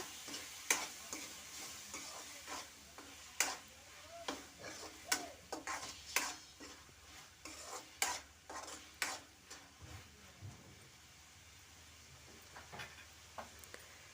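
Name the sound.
boiled field beans frying in a pan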